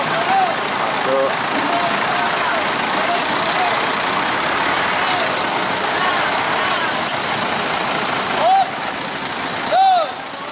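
PO San intercity bus with its engine idling as it pulls into a hotel in Pekanbaru, a steady broadband motor drone throughout, with a few short horn-like tones near the end.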